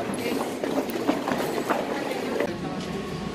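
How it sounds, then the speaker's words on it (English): A metro train in Medellin rolls into a station with a loud rushing rumble, wheel clatter and occasional squeals, close by and continuous, with people talking faintly over it. "Feel the rush as we all rush to get to the next train."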